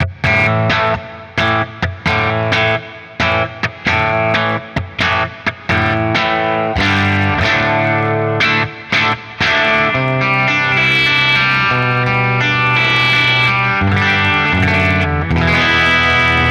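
Sparkle Burst Les Paul electric guitar played clean through an amp simulator with no distortion, strummed chords and quick choppy stabs at first, then sustained ringing chords and single notes, loud and close, with no voices.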